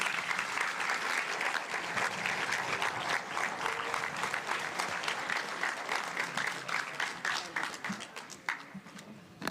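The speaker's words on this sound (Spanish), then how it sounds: "recibamos con un fuerte aplauso a nuestro invitado Iván Ernesto Gatón Rosa." Audience at a Spanish-language educational lecture event gives sustained, even applause welcoming the guest speaker, a dense steady patter of many hands throughout, tapering slightly near the end, with faint voices mixed in.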